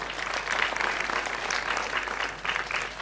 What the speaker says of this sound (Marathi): जोरदार टाळ्यांनी स्वागत करूया.